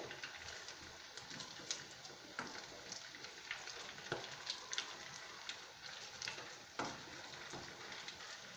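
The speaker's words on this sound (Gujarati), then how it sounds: "આપણે આમને મીડિયમ ગેસની ફ્લેમ ઉપર જ ફ્રાય કરવાનું રહેશે।" Aloo tikki potato patties frying in hot oil over a medium gas flame, a steady close crackling sizzle with scattered sharp pops and spatters, no voices.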